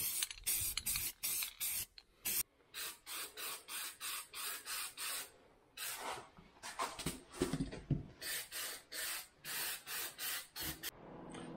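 Sheet metal being cut for a DIY door on a CFMoto Uforce 1000XL UTV, heard as a fast run of loud, regular rasping bursts with brief gaps and a few pauses, close up and with no talk.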